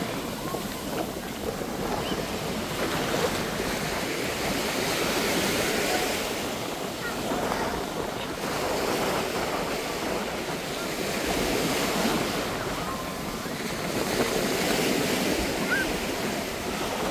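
Waves on the beach at Keramoti, Greece, rolling in as a continuous broad wash of surf with gentle swells in loudness, mixed with wind buffeting the microphone and no voices.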